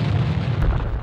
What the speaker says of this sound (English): the first very large detonation was, of course, the 1917 Halifax explosion